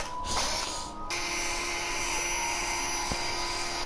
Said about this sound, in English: So I'm going to get my drill and begin to drill these holes out.